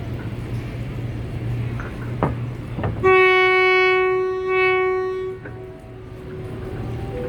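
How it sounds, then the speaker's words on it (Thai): Low rumbling train noise, then a loud, bright train horn sounds for about two seconds before fading back into the rolling rumble, on a Thai excursion train leaving Bang Sue Junction. "เปิดวีดแล้วเสียงวีดใช้ได้เลย"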